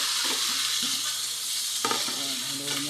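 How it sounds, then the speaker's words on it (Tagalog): Chopsuey vegetables with cabbage stirred in a hot pan, a steady broad sizzle with scraping spoon strokes and a louder toss near the middle, close and continuous without talk. "Haluin natin, haluin para masarap na pantay."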